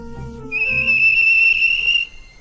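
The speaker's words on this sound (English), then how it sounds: "the whistle blew" A single long, steady steam train whistle sounds loudly for about a second and a half, clear and high-pitched, then cuts off.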